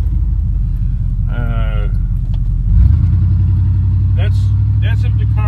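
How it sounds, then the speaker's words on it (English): Big old Lincoln car engine running while driving, a steady loud low rumble throughout that swells slightly as it picks up, with brief higher chirps over the top. "I gotta take that big old Lincoln to the emissions testing place"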